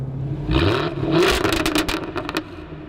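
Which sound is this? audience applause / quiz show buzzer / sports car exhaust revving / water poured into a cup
sports car exhaust revving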